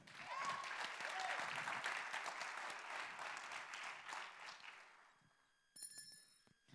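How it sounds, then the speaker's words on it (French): Sustained applause from a seated audience at a university thesis-presentation final, a broad wash of clapping that swells, then fades away over several seconds before a brief burst of further sounds. "Merci pour vos applaudissements"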